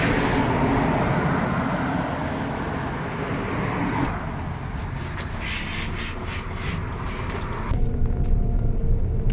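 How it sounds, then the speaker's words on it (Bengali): Bus number 20 pulls up in a Norwegian village, a steady loud engine rumble and road noise throughout, with hissing and rattling bursts in the middle and a brighter rush near the end. "যে আমাদের বাস আসছে"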